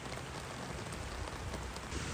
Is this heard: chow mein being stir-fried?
no